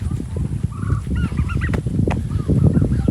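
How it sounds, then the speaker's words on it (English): Turkeys gobble repeatedly from a short distance in an outdoor pen, their calls rising and overlapping above a steady rumble of background noise. "You hear the turkeys over there talking to me because I'm out here."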